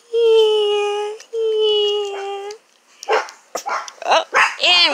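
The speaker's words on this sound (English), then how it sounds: "Oh, and we got dogs going" Dogs bark and howl in a residential backyard: two long sustained howls open, followed by a quick run of sharp, close barks and yips.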